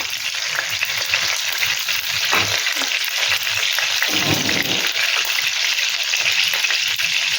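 Eggs frying in a pan over a low gas flame for egg malai masala, giving a steady, close, even sizzle with no speech throughout.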